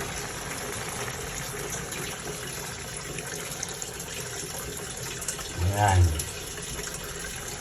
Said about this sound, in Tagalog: Ilalagay natin itong unang gata.